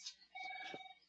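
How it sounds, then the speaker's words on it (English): A mobile phone sounds a short electronic alert with a steady tone, fairly faint and alone in a quiet room, lasting about a second. "that's my phone buzzing"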